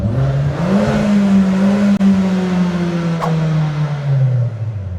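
A manual six-speed Fiat Punto Abarth engine revs up with a rising, steady drone that climbs then holds and eases off, loud and close with no talking.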